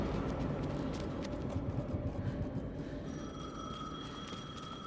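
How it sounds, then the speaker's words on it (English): A telephone rings in the video game Alan Wake 2, steady repeated electronic rings heard at moderate level over a dense, droning ambient background, without any talking. "The phone again."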